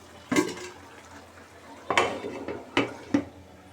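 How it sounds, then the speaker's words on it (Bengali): A metal lid clatters onto a pot of curry of winter vegetables, prawns and spinach, giving four sharp clanks with quiet gaps between them. "এবার ঢাকনা দিয়ে ঢেকে দেব"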